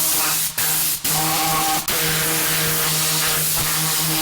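A high-impact air blower cleaning tool sprays a loud, close, continuous hiss, cut briefly three times by quick trigger releases before running on steadily.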